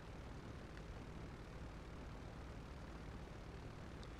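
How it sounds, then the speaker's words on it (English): A C-130 airplane flying in GTA 5, a steady broadband engine and propeller drone that holds at an even level throughout with no voices. "It feels so weird trying to fly the airplane from back here."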